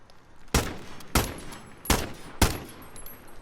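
An AN-94 rifle in Call of Duty Modern Warfare fires four single shots at an even, fairly quick pace, each a loud sharp crack with a short tail, with nothing else in between.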